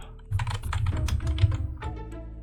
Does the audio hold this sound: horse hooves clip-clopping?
no